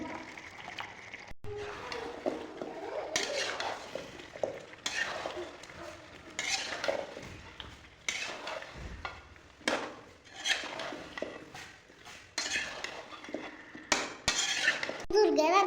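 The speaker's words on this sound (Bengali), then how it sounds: "এখন আলুটা দিয়ে আলুটা কষাবো, যাতে আলুটা একটু নরম হয়" Potatoes are stir-fried in a pan with chicken masala, giving repeated close scraping and clattering spoon strokes over a soft sizzle in an irregular rhythm, with no talk.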